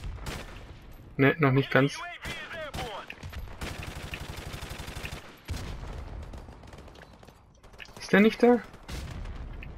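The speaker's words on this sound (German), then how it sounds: "hier schießt doch einer rum" Gunfire in Call of Duty Modern Warfare Remastered, with bursts of game shots and sharp cracks running through most of the stretch beneath a steady game bed, while a voice speaks briefly at the start and again near the end.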